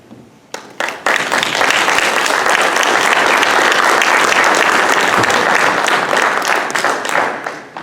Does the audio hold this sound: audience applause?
yes